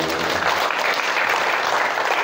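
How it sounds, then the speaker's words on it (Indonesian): Seminar audience applauds together in a steady, dense wash of clapping that holds at full strength from start to finish, with no voices rising above it. "Tepuk tangan untuk kita semuanya."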